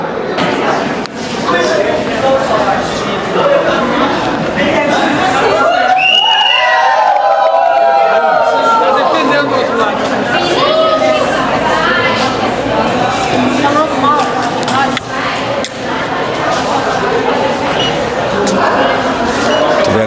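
A crowd of people reacts loudly and continuously against a politician, with dense shouting and chatter filling the whole stretch, briefly dipping before swelling again; voices overlap throughout.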